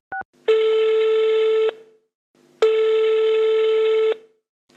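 A phone call being placed: a short dial tone, then two long ringback tones with a silent gap between them, clear and steady, with no voices.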